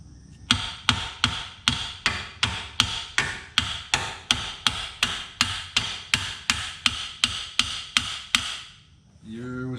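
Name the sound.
hammering on car suspension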